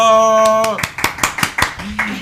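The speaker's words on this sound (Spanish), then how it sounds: "Jesús Jiménez, ¡aplausos!" A few people clap in a quick, sharp rhythm for guest Jesús Jiménez on a Spanish-language drama and sign-language show, sounding close and sparse right after a sustained spoken voice, with talk resuming at the end.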